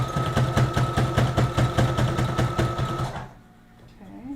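A sewing machine stitches a dress at close range, a fast, steady mechanical whirring and clatter that runs for about three seconds before stopping, leaving quiet room noise.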